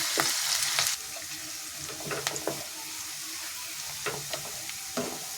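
Onions frying in a pan on a low gas flame, a steady sizzle with scattered sharp clicks of stirring, louder at the start and then settling to an even hiss.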